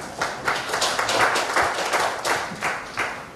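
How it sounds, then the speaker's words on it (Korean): Brief burst of audience applause at a forum launch ceremony, fairly close with uneven bursts of claps over about three seconds. "박수 부탁드리겠습니다."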